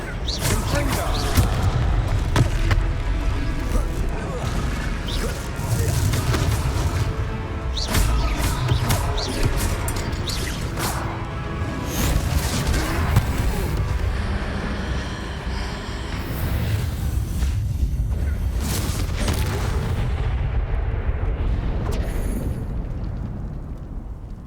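Repeated booming fire-spell blasts from Confringo cast at trolls in Hogwarts Legacy, loud crackling explosions and crashes in close succession, with voices talking over parts of the battle.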